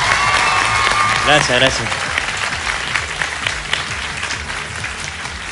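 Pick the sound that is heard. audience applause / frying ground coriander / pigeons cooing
audience applause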